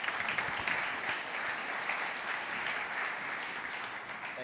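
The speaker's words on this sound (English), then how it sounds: "Please give him a round of applause." Keynote audience at Lenovo Transform 2017 applauds a speaker's introduction, dense sustained clapping filling the hall at moderate level, fading gently toward the close.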